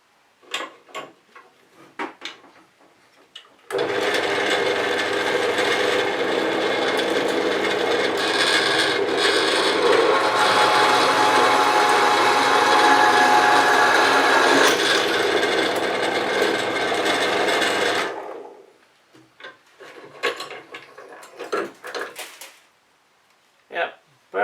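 A Scheppach DP16VLS drill press bores into wood with a sustained, loud grinding whir lasting about fourteen seconds, bracketed by quieter clatter and handling noises before and after.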